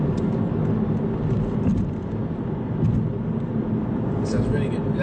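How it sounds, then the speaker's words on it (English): An Aston Martin Virage engine roars steadily from inside the car on a test drive, with a broad, continuous drone and voices talking over it. "Oh, those gear shifts. Oh, it does sound good."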